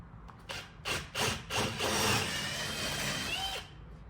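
Several short bursts of drilling into wood, then a steady grinding whir lasting a couple of seconds before stopping, close by.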